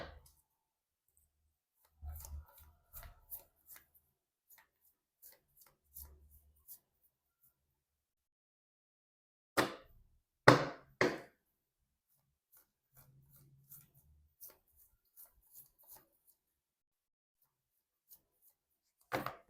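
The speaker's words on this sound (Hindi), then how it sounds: "कर लेती हूँ कार्ड की शफलिंग" Tarot cards shuffled by hand, soft scattered rubs and riffles with a few louder crisp flicks in the middle, close and quiet with no speech.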